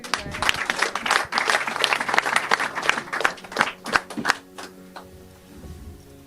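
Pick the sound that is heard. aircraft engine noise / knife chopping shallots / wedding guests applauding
wedding guests applauding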